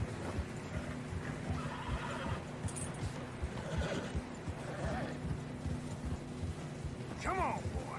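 Horses in the snowy mountains of Red Dead Redemption 2 whinny and snort amid clip-clopping hooves, with a sharp neigh near the end, all mixed with game ambience.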